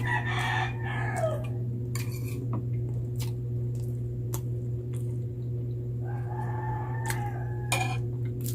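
A rooster crows loudly in the background, with clucking chickens nearby; two crowing calls ring out with clucks between them over a steady electrical hum.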